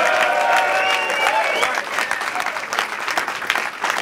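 Crowd cheering and applauding at a grime and rap battle event, a dense, loud wash of clapping and whoops with an excited voice shouting over it early on.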